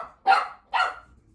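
Bertie the puppy gives two short, sharp, close barks about half a second apart, with quiet between them.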